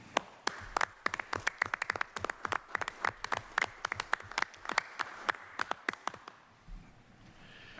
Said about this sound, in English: you really deserve another round of applause